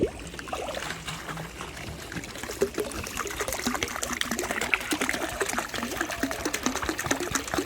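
Liquid seaweed fertilizer being poured steadily into a 2,700-gallon aquaponic tank, a continuous close splashing and trickling of liquid into water that holds even for the whole stretch without talk.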